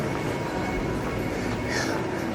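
Steady rumble of a train leaving a station in Singapore, broadband rail noise with a faint high squeal, continuous and fairly close.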